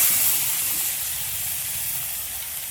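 Ginger garlic paste sizzles steadily in a hot pan while frying for a curry leaves chicken curry, a continuous close hiss with no voices.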